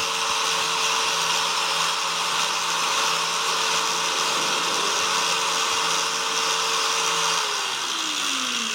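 A Modern M-2350B angle grinder runs at a steady high-pitched whine with a constant motor hum, loud and unbroken throughout. Its pitch dips slightly near the end.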